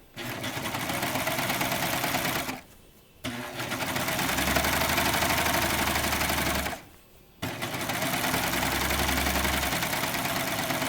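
A serger sewing machine stitches over a fabric seam, its fast motor whirring loud and steady in three runs with two short pauses between them, no talking.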